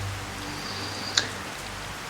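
Steady rain falling on a surface, a constant close hiss with one small bright drip-like tick partway through, and no voices.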